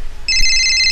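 An electronic phone ringtone starts abruptly and keeps ringing steadily, loud and close, with no talking over it.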